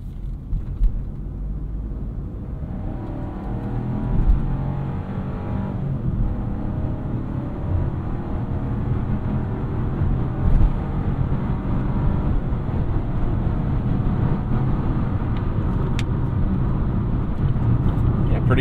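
Three-cylinder engine of a 2024 Chevrolet Trax pulling hard up a highway on-ramp, a steady low drone and road rumble heard from inside the cabin, rising gradually with a few bumps and no speech.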